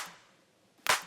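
A single sharp clap sample, lightly clipped at its transient peak and given a touch of reverb, lands late after a quiet stretch and its short spacious tail fades away.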